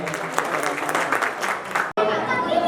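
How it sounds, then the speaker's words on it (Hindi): Crowd applause at a Koli community gathering, dense clapping and chatter that breaks off abruptly near the end, followed by a different-sounding continuation with voices. "तालियों का सहयोग करें"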